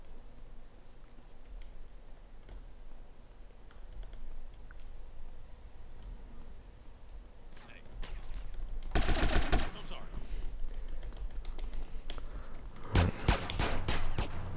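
Gunfire in GTA: San Andreas, rapid machine-gun bursts popping over a low engine rumble, building to dense loud volleys near the middle and end, with a voice talking in places.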